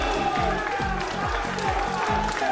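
A large darts crowd on finals night roars and applauds continuously, loud and sustained, with a steady rhythmic thumping running underneath the noise.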